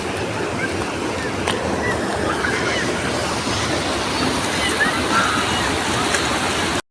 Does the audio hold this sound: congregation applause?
no